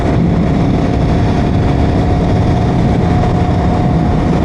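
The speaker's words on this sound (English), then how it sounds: "that Motos Tractionator Rails is just whining away on the front of this bike" Motorcycle riding with Motos Tractionator Rails tires on the front giving off a loud whine, heard as a steady, dense engine and road roar with a faint tonal whine running through it, no talk.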